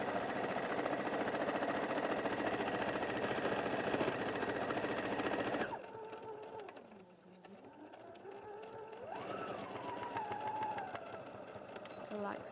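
A sewing machine stitches the final side of a fabric panel, a loud steady mechanical whir running continuously for about six seconds before cutting off, followed by quieter voices talking.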